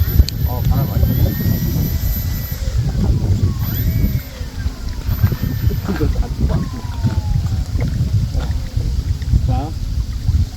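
A Freewing Pandora RC seaplane on float conversion taxiing across water, its electric motor whining steadily and loud with shifting pitch, water splashing beneath and wind noise around, a voice speaking over it at moments.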